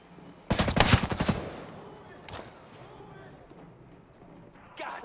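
In the tactical shooter Ghost Recon Breakpoint, a close burst of rapid automatic gunfire crackles for about a second, followed by a single later shot and another near the end, with game voices heard in between.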